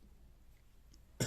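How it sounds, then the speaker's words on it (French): A single short cough, close and abrupt, in an otherwise quiet room during a French television segment. "Il fallait bien que je tousse à ce moment-là."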